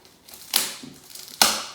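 Packing tape being ripped off a new Crossrope jump rope mat, two short sharp tearing bursts separated by quieter crinkling, close and alone without talk.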